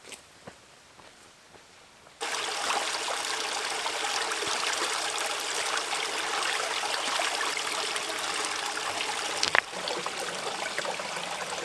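A stream of water runs beside a backpacking trail on the Mogollon Rim, a steady close rushing trickle that swells in after a quieter start and carries on alone with a faint knock near the end.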